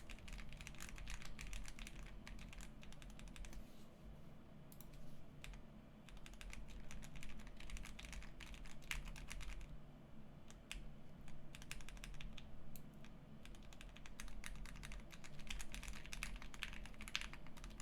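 Continuous typing on a Polaris mechanical keyboard fitted with silent switches, soft muted keystrokes in quick uneven bursts with brief pauses, close and fairly quiet, with no talk.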